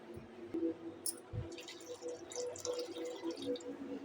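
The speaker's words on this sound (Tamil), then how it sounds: "இந்த ஸ்டேஜில் கொஞ்சம் தண்ணி ஊற்றிக்குங்க." Water trickles and drips into a mixer grinder holding ground coconut, green chillies and roasted gram, small splashes and drips close by over a quiet kitchen background.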